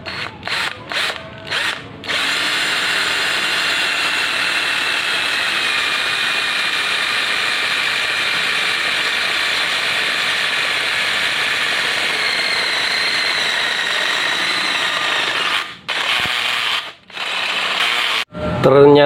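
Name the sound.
cordless drill drilling a steel angle bar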